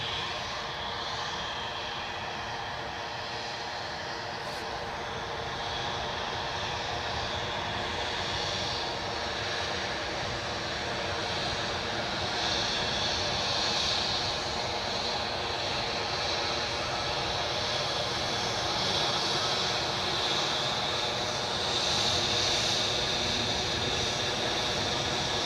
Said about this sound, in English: The plane you were looking at is an Embraer 190